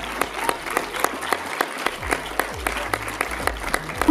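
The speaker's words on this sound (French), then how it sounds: "On les applaudit bien fort." Audience at the FestiPREV 2016 school festival claps, a steady run of distinct hand claps with a crowd murmuring underneath, moderately loud and close.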